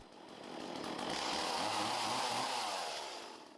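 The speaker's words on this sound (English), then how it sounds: "I flatten it out as best I can with a chainsaw" A chainsaw flattening the lopsided top of a wood burl, roaring steadily for several seconds as the blade bites in. The engine pitch dips and bends under load, loud and close, and no one speaks.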